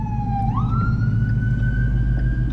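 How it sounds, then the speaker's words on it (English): A passing emergency vehicle's siren wails steadily and loud against a low rumble of traffic, its tone sliding upward partway through as it goes by. "I hear sirens somewhere."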